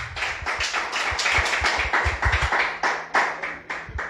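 A church congregation claps during a Spanish-language sermon, steady rhythmic hand claps that are fairly close and loud, repeating without a break and with no voices.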